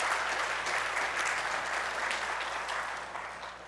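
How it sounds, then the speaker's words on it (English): Congregation clapping during a church sermon, a dense, even round of applause from many people that fades slightly toward the end, fairly soft and at a distance. "give God a clap"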